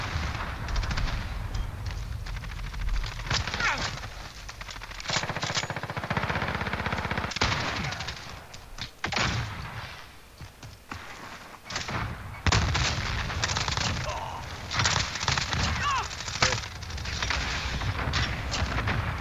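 Dense, loud bursts of automatic gunfire and heavy booms from the Call of Duty Warzone video game, rattling continuously with brief lulls throughout, no talk over it.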